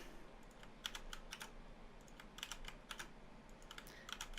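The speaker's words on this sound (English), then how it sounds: "So I'm going to type" Quiet keystrokes on a computer keyboard typing a short name, clusters of light clicks with brief pauses, soft and close over faint background hum, no talking.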